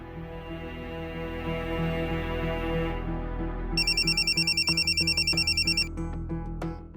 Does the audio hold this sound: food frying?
no